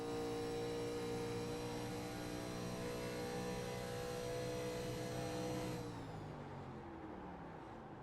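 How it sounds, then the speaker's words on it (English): Onboard race car engine from a TNT 87 Series race at Atlanta, holding a steady loud harmonic drone that abruptly drops in pitch and level near the end as the clutch goes in or the engine cuts and the car coasts. "He's either clutching it or shutting off the engine, one of the two, and letting it coast."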